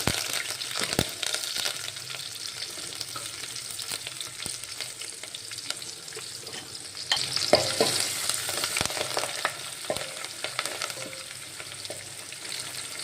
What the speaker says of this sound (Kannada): ಸಾಸಿವೆ ಜೀರಿಗೆ ಚಟಪಟ ಅಂತ ಸಿಡಿದ್ಮೇಲೆ ಈರುಳ್ಳಿ, ಬೆಳ್ಳುಳ್ಳಿ,